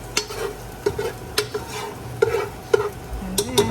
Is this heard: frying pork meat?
yes